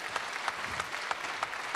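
Applause fills a room at a corporate inaugural evening event, with a crowd clapping steadily and individual sharp claps standing out here and there across a short stretch.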